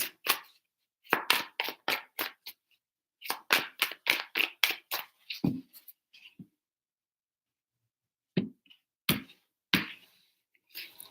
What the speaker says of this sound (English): Three shuffles for Aquarius.